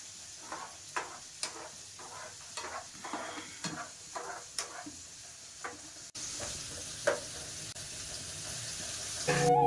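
Peanuts roasting in a pan, a quiet stir-and-scrape rhythm of regular soft knocks as they are moved about, with faint sizzling close by; the stirring stops partway and a steady low hiss continues.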